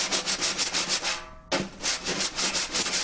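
A wire brush sweeps back and forth across a snare drum head in a steady, even rhythm, making a loud, close, sanding-like swish, with one brief pause before the strokes resume.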